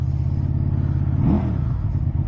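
A 2023 QJ Motor SRV300 motorcycle engine rumbles low and steady nearby, with one brief rev swelling midway before settling back to a throaty idle.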